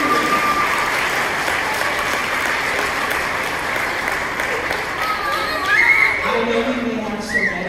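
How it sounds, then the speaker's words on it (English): Audience at a school veterans concert applauds steadily for the veterans, a dense, even wash of clapping from a large crowd that holds at one level throughout, with some voices mixed in toward the end. "Let's just give a round of applause for our veterans."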